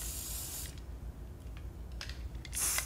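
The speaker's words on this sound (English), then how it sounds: "So I'm just gonna kind of spray a little bit" Hair product spritzed from a spray can onto styled hair, a short hissing burst at the start and another at the end, with quiet handling in between and no talking.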